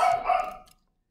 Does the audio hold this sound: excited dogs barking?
yes